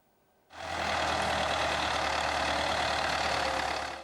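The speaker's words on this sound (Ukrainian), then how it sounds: "Ось так часом спокій у лісі порушує робота трактора." Tractor working in a forest, ploughing firebreak strips, starts abruptly after a quiet moment and then holds a loud, steady engine roar without letup.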